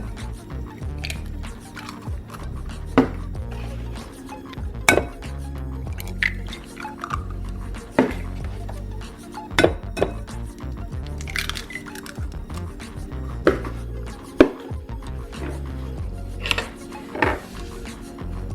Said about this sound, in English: I'm going to now break the eggs